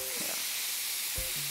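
Thin slices of Korean BBQ meat cooking quickly in a hot pan give a loud, steady, close sizzle with a couple of soft thumps from the pan.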